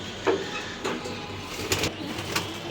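Soft pigeon coos repeat a few times at a relaxed pace against a faint background hum, no voices.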